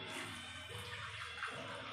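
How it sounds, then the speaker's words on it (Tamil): Water is poured into a pot of fried mutton biryani masala, making a continuous, fairly quiet gushing wash with no break and no talking. "நான் தண்ணி ஊற்றிக்கலாம்."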